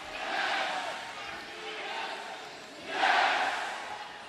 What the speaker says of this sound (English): Homestead crowd with him on every blow.